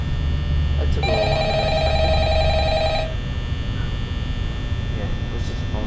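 Telephone rings in the video game Five Nights at Freddy's, a steady electronic tone lasting about two seconds over a constant mains hum, then the hum continues alone.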